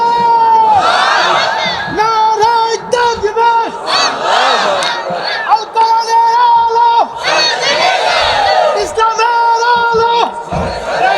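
A large religious gathering shouts the takbir in unison in reply to a preacher, loud massed voices rising in repeated waves of chanting and cheering that fill the whole stretch.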